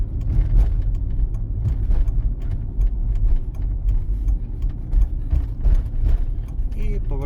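A car turning right along a driving exam route, a continuous low engine and road drone heard from inside the cabin with faint mechanical ticks and clicks, steady and close throughout.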